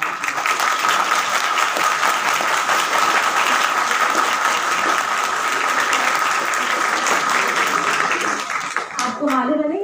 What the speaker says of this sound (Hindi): आपको मालूम है ना ये तालियां आपके लिए थी